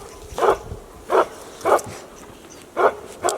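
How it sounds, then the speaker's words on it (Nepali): A Tibetan Bhote dog in the Himalayan foothills of Sindhu barks five times, in sharp, evenly spaced single woofs at moderate distance, with no voices. "यो भोटे कुकुरले टोक्दैन"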